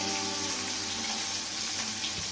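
Rohu fish pieces fry in a pan, giving a steady, loud broadband sizzle that holds through the whole stretch, with no voices over it.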